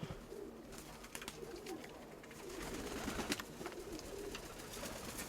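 Soft, low pigeon coos repeat up close against a rustling, scratchy background, with no voices present.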